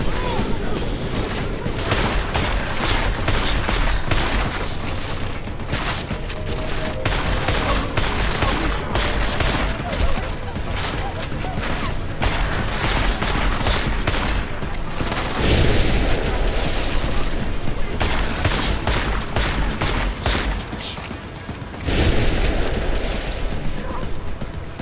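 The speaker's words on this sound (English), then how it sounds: "they're shooting in our direction though" Gunfire from Deus Ex: Mankind Divided, with sustained loud bursts of automatic shots and booming impacts that rattle on nearly without pause, briefly thinning near the end before resuming.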